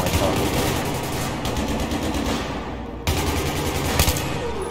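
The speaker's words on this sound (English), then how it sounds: "Who's shooting?" Rapid gunfire in Battlefield 3 rattles in dense bursts of sharp cracks, loud and close, with brief pauses between volleys and a heavier shot near the end.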